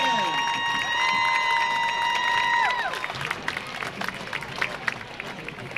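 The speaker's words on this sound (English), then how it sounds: "How about another round of applause for the Jasper High School Viking" At a high school football game, the band's sustained brass chord slides down and fades. The crowd in the stands then breaks into scattered applause and cheering.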